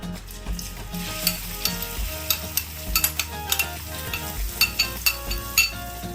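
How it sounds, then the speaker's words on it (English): Chopped garlic sizzles and fries in a hot pan for a pickle, with a spoon stirring and scraping in repeated clinking strokes over a steady crackle. "Now mix them nicely till little brown in color, because when garlic turns little brown in color"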